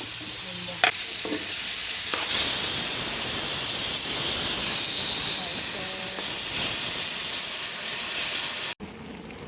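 Vegetables sizzling in hot oil in a wok, a constant loud hiss and crackle with stirring clatter, a few sharp metallic scrapes early on, then an abrupt cut near the end.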